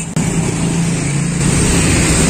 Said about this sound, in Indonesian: ini bising ya suaranya, karena persis di tepi jalan raya, jadi banyak lalu lintas kendaraan